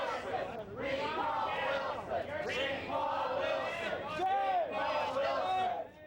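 A small but vocal crowd of about 36 gay rights activists protesting downtown in front of the State Building, shouting and chanting together in sustained, overlapping voices at moderate distance.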